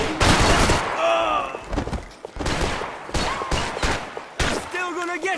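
Bursts of gunfire from the Max Payne 3 video game break out in several loud volleys between frantic shouted voices and music.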